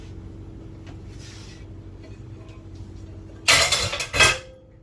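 A brief burst of harsh scrubbing against a baking dish with a small scrub pad after quiet background hum, two rough abrasive strokes close by, then fading.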